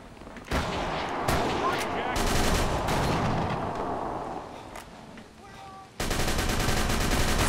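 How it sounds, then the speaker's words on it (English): A shotgun fires in Call of Cthulhu: Dark Corners of the Earth, with loud booming blasts at irregular intervals over dense game noise. A burst of harsh, constant noise follows near the end. "the shotgun should be effective against these sons of bitches"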